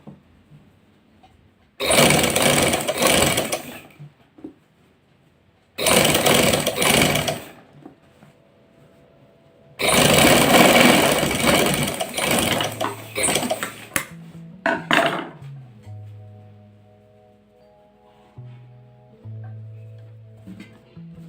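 A sewing machine stitches along the edge of a fabric strip in three separate whirring runs, close and loud, with quiet gaps between them. Low tonal hum and clunks follow near the end.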